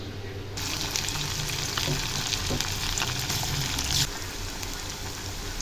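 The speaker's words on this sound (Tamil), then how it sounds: "இப்போ இதே நல்லா ஃப்ரை பண்ணி எடுத்துடலாம்" Chicken manchurian pieces deep frying in hot oil, a continuous bubbling sizzle close to the pan with occasional stirring clinks, no talk.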